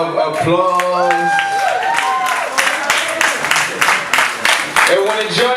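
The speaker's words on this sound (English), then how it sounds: "Round of applause." An audience claps and applauds, rising from scattered claps into steady applause, with a sustained musical tone fading out at the start.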